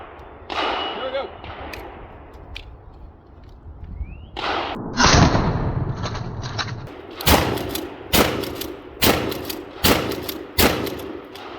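A TAC 14 hardwood shotgun is fired outdoors, giving a series of loud, sharp blasts spaced a second or so apart, with handling noise and a short pause before the shots.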